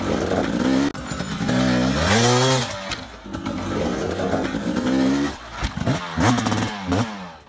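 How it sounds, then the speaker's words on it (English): An off-road dirt motorcycle revs hard while climbing a rock face, its engine rising and falling in sharp surges as the clutch feeds power, loud and close throughout, with no voices. "controlling the revs with the clutch to get the front wheel to come up just a little bit, hit the rock right where he wants"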